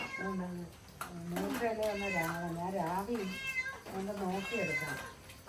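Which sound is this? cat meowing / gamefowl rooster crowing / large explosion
cat meowing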